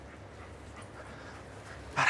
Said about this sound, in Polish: co to za pies?